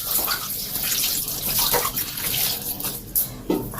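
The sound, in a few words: washing hands with soap under running tap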